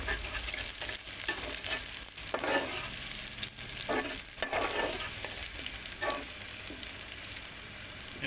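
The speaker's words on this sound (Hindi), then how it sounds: "ये टमाटर 2 बड़े साइज़ के मैंने बड़े बड़े टुकड़े करके डाल दिए मैंने।" Large chunks of tomato frying with spices for a spicy fish curry, a steady close sizzle with repeated scraping stirs throughout and no voices.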